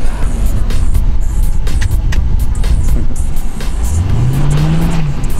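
A 2007 Ford Mustang GT Premium with an automatic transmission being driven hard, its engine loud and close, revving and rising in pitch toward the end.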